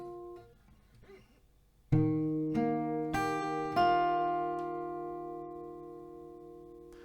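An acoustic guitar picks the C part of a song: quiet opening notes, then four clear plucked notes at roughly even intervals, each ringing out and decaying slowly, played close and alone.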